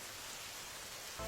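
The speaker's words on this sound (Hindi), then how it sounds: "बारिश भी बहुत तेज हो रही है।" Steady heavy rain pours outdoors by a grain storehouse, a dense even hiss with no breaks, and a brief louder rise right at the end.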